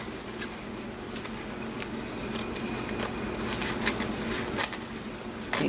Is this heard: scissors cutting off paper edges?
yes